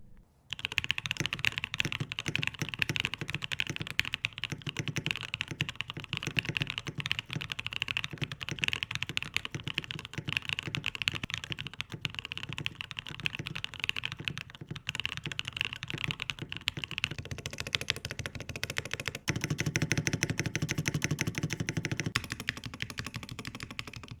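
Steady typing on an Aurora65 65% keyboard fitted with Matcha switches lubed with 205 grade 0 and a Warrior keycap set, a close, continuous stream of soft keystroke clacks with occasional heavier thocks from larger keys, and no voices.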